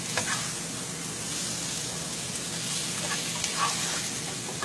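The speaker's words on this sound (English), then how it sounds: "I'm going to go ahead and let this sausage cook" Sausage fries in a pan, giving a steady, close, even sizzle with a few soft crackles and no voices.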